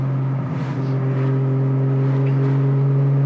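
A Nissan R34 GT-R engine holds a loud, steady high rev, a strong droning hum with rich harmonics that rises slightly partway through and stays close and continuous, with no talking.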